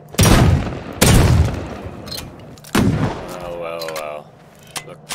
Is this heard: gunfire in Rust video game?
yes